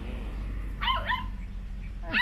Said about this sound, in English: Our favorite dog there.